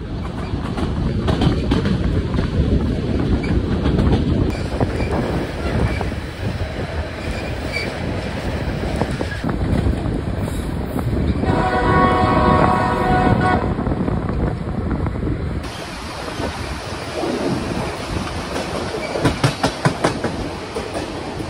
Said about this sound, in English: As the train makes its ascent, it follows the Skagway River